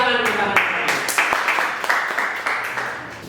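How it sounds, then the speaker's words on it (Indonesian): Scattered clapping from a school audience honoring a high-school teacher, uneven claps rising and fading over a few seconds with a voice speaking at the start. "Oke, tepuk tangan."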